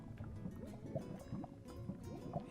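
Lava bubbles in the Minecraft video game with soft repeated gurgling pops and low liquid burbles, faint and continuous in an underground space.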